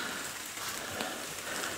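Steady rain falls outside a cottage, a dense, even hiss of drops on surfaces that holds constant throughout with no voices.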